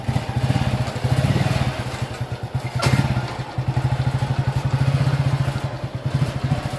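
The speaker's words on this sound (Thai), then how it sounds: "เอาขับโชว์รอบหนึ่งซิว่า เป็นยังไง" A newly bought vehicle's small engine runs through a demonstration lap, giving a steady, close, rapid chugging throb that swells and eases with the throttle. There is one brief knock partway through and no voices.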